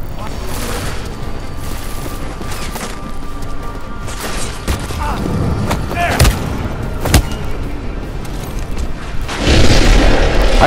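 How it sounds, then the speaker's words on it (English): Video game combat in Deus Ex: Mankind Divided with an EMP grenade blast amid gunfire, sharp bursts and booms over continuous noisy action, heaviest near the end. "try an EMP grenade."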